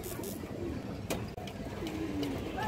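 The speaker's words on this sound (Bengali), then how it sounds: "এটা একটা বিড়া কবুতর" Pigeons coo softly in a loft, repeated low throaty calls over a quiet background with a brief click or knock partway through.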